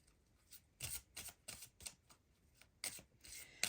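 Tarot talisman cards are shuffled and handled up close, giving a series of quiet crisp riffles and flicks in irregular bursts with brief pauses between them.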